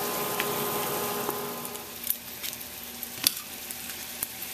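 Chicken flautas frying in a pan, a soft continuous sizzle broken by occasional sharp pops and crackles, heard close and alone.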